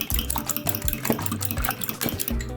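A fork beats rapidly against a bowl, producing quick rhythmic clinks and scraping taps as a mixture is whisked.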